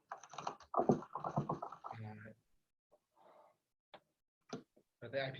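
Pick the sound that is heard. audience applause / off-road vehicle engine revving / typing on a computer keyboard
typing on a computer keyboard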